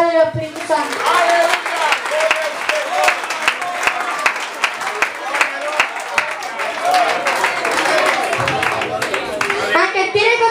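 Sustained applause and clapping from a congregation at a church children's service, steady and dense for about ten seconds, with children's voices and crowd noise mixed in.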